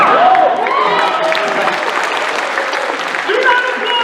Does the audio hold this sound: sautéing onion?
no